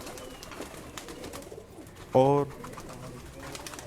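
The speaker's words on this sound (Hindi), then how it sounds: "उनके इंडिविजुअल कबूतर भी दिखाएंगे" A pigeon at a breeding setup of high-flying pigeons in Karachi gives one short, close coo, rising briefly over someone talking and faint background noise.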